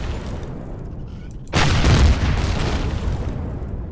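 In the video game Empyrion, a radar station core blows up in a sudden loud boom with a deep rumbling burst that settles into a sustained roaring noise, over a steady game drone.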